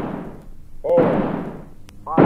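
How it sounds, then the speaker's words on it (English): Old spooky recording of the Pistol Poem, a series of booming gunshot-like blasts with long decaying tails and swooping tonal smears between them, loud and echoing. "The next thing is something called the Pistol Poem, which is a famous spooky piece of audio that was recorded a long time ago."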